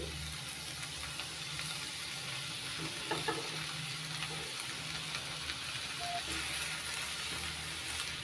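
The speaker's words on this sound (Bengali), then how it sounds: "একটু নাড়াচাড়া করে নিচ্ছি হাতে তৈরি চাউমিন দিয়ে" Handmade chow mein noodles are stir-fried with paneer and vegetables in a pan, producing a constant close sizzle with occasional scraping stirs and light clinks.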